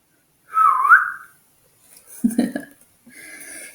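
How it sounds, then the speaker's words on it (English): A person whistles one clear, sliding note lasting under a second, followed by brief breathy vocal sounds and a faint tone in a quiet room. "How many of you know how to whistle?"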